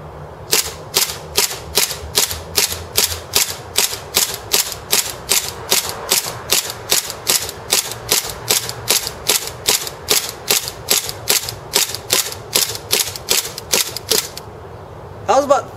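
A KWA MkII 1911 gas airsoft pistol dry-fires on an empty magazine and empty chamber. About thirty sharp, loud clacks repeat in a steady, even rhythm close to the listener, followed by a brief quiet and a short final voice.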